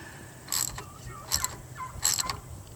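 A socket ratchet tightening a hose clamp on a leaking machine gives a few short metallic clicking bursts, close and fairly clear, spaced about a second apart over a low background hum.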